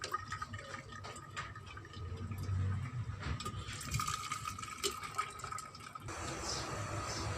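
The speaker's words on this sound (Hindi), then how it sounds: "इस तरह छलनी की मदद से हम इसको छान के इसका सारा पानी अलग कर लेंगे।" Beef trotter broth pours and trickles steadily through a strainer, a continuous wet splashing with faint drips, close by.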